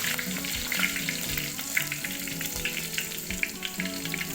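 Crushed garlic and curry leaves sizzle in hot oil while making a Marathi black urad dal amti, a steady close crackle with small pops and faint clinks of a utensil, no voices.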